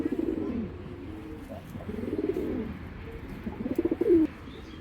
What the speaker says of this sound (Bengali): তো কবুতর দুইটা একটু দেখাই আমি।